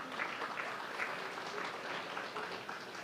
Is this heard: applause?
yes